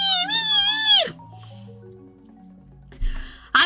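A human voice mimics a kitten with a drawn-out, wavering high-pitched meow that drops off sharply, followed by quieter trailing tones and a brief rising squeak at the end.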